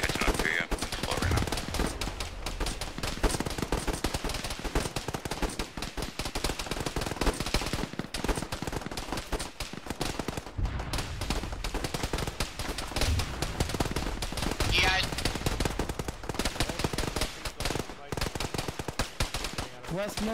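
Dense gunfire fills an Arma military game battle: automatic bursts and single shots crack one after another without pause, loud and near, with radio chatter from players now and then underneath.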